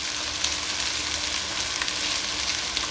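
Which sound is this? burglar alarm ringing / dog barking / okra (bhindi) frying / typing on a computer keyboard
okra (bhindi) frying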